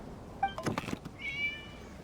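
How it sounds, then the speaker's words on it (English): A cat in the video game Genshin Impact gives a couple of short, close meows separated by a soft thump, all within a brief, quiet moment. "It was just a cat."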